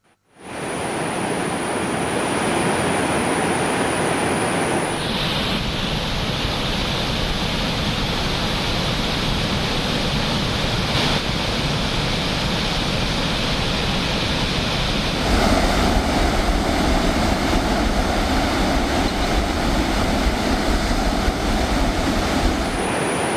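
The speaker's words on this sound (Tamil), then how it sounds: "கனமழையின் காரணமாக அதிரப்பள்ளி அருவியிலும் வெள்ளப்பெருக்கு ஏற்பட்டுள்ளது" Athirappilly waterfall in Kerala in flood after heavy rain, a loud, steady broadband roar of rushing water that holds constant throughout, with no voices.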